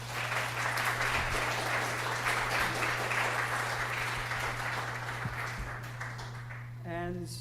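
Lecture audience applauding a speaker after an astronomy talk: a full, sustained round of clapping over a steady low hum that tapers off, followed by a speaking voice at the end.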